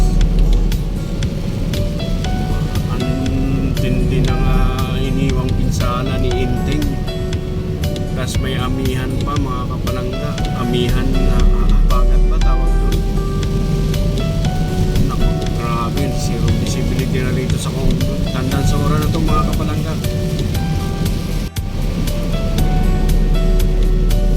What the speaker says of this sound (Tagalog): ulan, may kasama siyang kaunting hangin